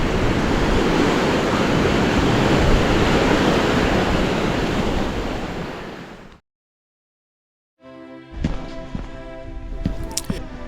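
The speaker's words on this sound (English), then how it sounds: "Look at it. It's an absolute torrent." A small campsite brook swollen into a flooded torrent by Storm Erin roars as a loud, dense, continuous rush of water for several seconds, then cuts off abruptly.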